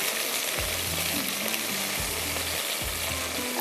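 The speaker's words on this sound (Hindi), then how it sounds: "चिकन को मैंने फ्राई करना है, फ्राई करके निकाल रही हूँ" Chicken fries in oil with a loud, steady hiss, interrupted by a few low thumps and scrapes as the pieces are moved about.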